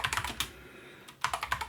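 Quick clicks on a computer keyboard as a terminal command is typed, with a burst of keystrokes, a short pause, then another burst, close up and with no talking.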